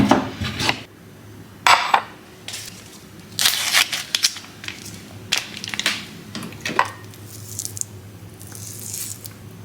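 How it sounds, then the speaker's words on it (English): A frying pan with leftover egg residue is handled on a home stove, giving scattered metallic clanks, scrapes and taps at close range with quiet gaps between them. "I'm just gonna be using the same pan I used this morning, so if it looks dirty, it's just got a little bit of egg residue in there."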